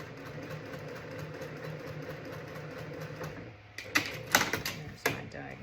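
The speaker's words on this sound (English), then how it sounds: "I'm going to just sew along here" A sewing machine stitches a diagonal seam on a spider quilt block. A steady mechanical hum runs throughout, followed near the end by a few louder clunks and rattles.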